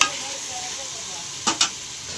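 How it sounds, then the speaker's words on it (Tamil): Lamb intestine curry masala, seasoned with salt, sizzles steadily in a pan while two quick spoon scrapes stir it near the end. "நல்லா கிளறி விடுங்க"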